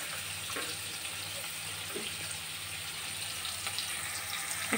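Chopped onions fry in a pan for egg Maggi noodles, making a soft, continuous sizzle with a low hum underneath and a few faint clinks.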